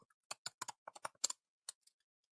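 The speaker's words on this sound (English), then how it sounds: "I can type the password incorrectly." Password typed on a computer keyboard: about a dozen crisp, close keystrokes in an uneven quick rhythm, quiet and isolated with no voices.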